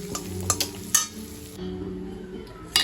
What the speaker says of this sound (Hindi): अभी जो मेरा तड़का है वो रेडी हो गया है, इसको मैं डालूंगी अभी जो हमारी दाल जो उबाल के रखी थी उसमें